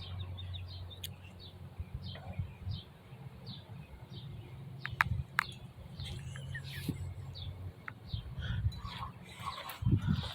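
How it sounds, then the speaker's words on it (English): During a heavy snowfall, a dog barks in frantic, irregular bursts that sound somewhat distant and faint, with scattered bird chirps in between. "He just barks like a maniac."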